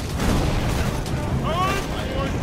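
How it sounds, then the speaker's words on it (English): Grenade explosions in Borderlands 2, a continuous rumbling barrage of booms and blasts with people talking over the din. "Grenades, grenades, grenades"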